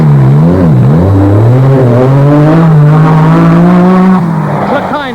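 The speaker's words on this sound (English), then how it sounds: "Fastest stage after stage in the superb Lancia Stratos." Lancia Stratos rally car on a special stage of the 1979 RAC Rally, its engine note loud and close, rising and falling through gear changes with a tyre squeal near the end, under a commentator's voice.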